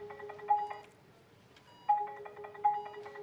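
Mobile phone ringing with a repeating electronic ringtone melody in short bursts separated by a pause, moderately faint, heard alone without talk.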